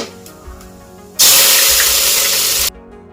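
Sliced onions hit a hot pan of browned spices, bursting into a loud, close, dense sizzling hiss that holds for about a second and a half, then cuts off abruptly.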